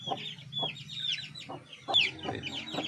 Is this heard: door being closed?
no